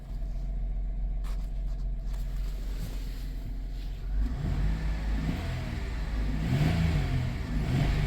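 A 2000 Chrysler Grand Voyager SE, off the road for over eight years, runs with a steady low engine rumble that swells into louder revving in the second half, with no talk.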